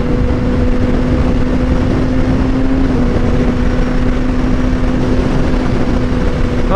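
A steady, loud engine drone with a constant low hum runs throughout from a Kawasaki ZX-6R sport motorcycle with its catalytic converter removed, cruising at even speed, with no voices.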